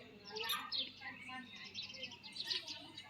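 Birds chirping around a home garden with brinjal and mustard plants, short bright calls scattered across the clip at moderate distance over soft outdoor background noise.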